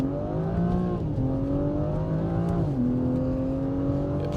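A BMW X4 M Competition with a turbocharged flat six accelerates hard through the gears, its loud, steady engine note climbing in pitch, dropping at each of two quick upshifts, and climbing again.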